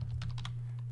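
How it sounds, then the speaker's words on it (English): Quick run of keystrokes on a computer keyboard, four or five soft, close clicks over a low steady hum. "So I'm going to type in"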